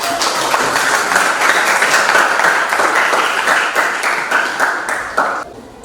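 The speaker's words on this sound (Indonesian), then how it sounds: "Berikan tepuk tangan." A classroom audience of students claps after a group presentation during a teaching practice assessment, with dense, steady applause filling the room for several seconds before it tapers off at the end.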